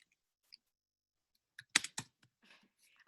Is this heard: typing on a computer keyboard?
yes